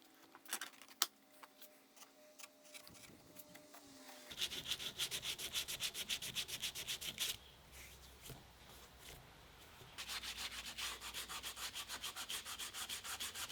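Corners of a homemade scrapwood router plane being rounded off with close, rhythmic rubbing and sanding strokes, starting with a few scrapes and then running in steady back-and-forth bursts, fairly quiet and with no talking.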